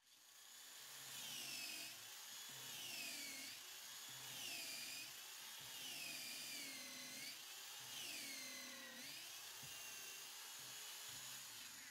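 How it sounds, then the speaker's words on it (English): A power drill bores a pocket hole through pallet wood held in a pocket-hole jig with a drill bit holder, its motor whining in repeated rising and falling surges over about twelve seconds, loud and close. "drill bit holder into the jig and then drill a hole."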